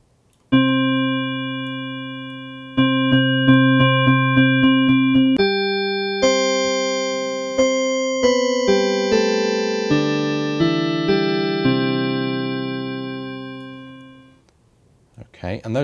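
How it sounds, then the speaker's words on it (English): Struck bell tones processed with filtering and reverb ring out in a string of clear, rapid hits, then shift to higher sustained chimes that overlap and slowly fade into a long reverberant tail. "I will use a combination of filtering and reverb."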